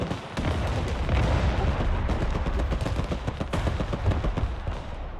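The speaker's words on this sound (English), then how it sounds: "hit this building with artillery" Artillery fire in the Broken Arrow video game, a continuous barrage of booms and blasts mixed with rapid gunfire, loud and dense throughout with no pauses.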